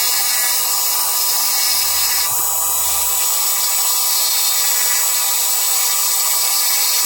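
A power tool smooths and carves a fire agate stone with a loud, continuous high-pitched grinding whine, and a low rumble briefly rises underneath near the middle.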